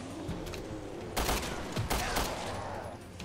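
Gunfire in Resident Evil Revelations 2, a few sharp, loud shots fired in quick succession over game background noise, with a short burst clustered around the middle.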